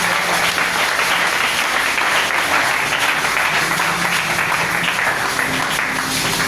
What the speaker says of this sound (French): Est-ce qu'on peut le manifester par les acclamations?